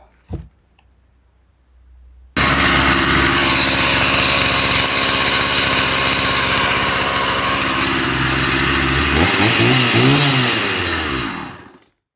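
A 2008 Stihl 180 chainsaw with newly replaced piston rings starts after a quiet pause and runs loudly and steadily near the listener, holding a high buzzing idle before the revs waver and the engine dies away.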